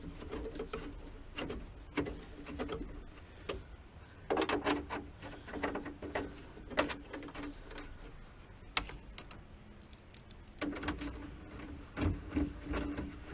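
Bolts go into the light fitting of a 1996 GMC Suburban with irregular small ticks and clicks of a hand tool, some scraping and handling noises between them, close and fairly quiet.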